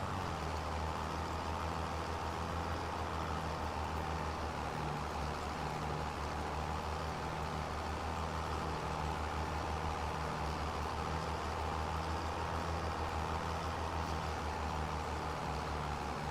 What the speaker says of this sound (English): Actually sounds like a vehicle now